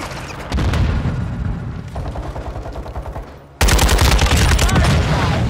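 Rapid automatic gunfire bursts in a Modern Warfare II match, loud and dense, with a sudden louder barrage erupting near the end.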